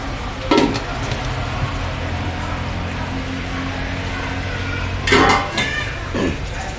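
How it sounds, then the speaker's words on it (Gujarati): Steel idli bowls go into a steamer pot and a lid is set on top: two clear metallic clanks a few seconds apart over a quiet, humming background. "ઈડલીની વાટકીઓ આપણે ઢોકરિયામાં રાખી દેશું. ઉપરથી આપણે ઢાંકણ ઢાંકી દેશું."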